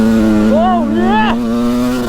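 A two-stroke motocross bike runs on a muddy track, its engine holding a steady loud drone with a couple of rising and falling revs, close and continuous.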